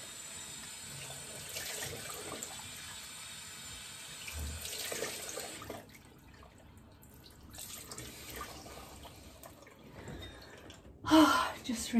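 Running tap water while skincare product is rinsed off, a steady hiss for several seconds that quiets, then returns with a brief louder splash near the end, with faint voice sounds.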